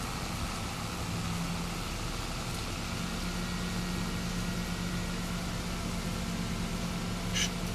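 A tractor in a farming game on Westbridge Hills, a steady low engine drone and humming rumble while driving, constant and fairly close with no voices.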